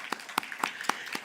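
A handful of scattered handclaps at a Sunday church worship service, about five separate sharp claps spaced unevenly, fairly faint with no talking over them.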